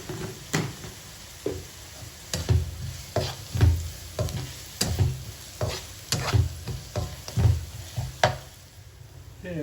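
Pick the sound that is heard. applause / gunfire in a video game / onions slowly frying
onions slowly frying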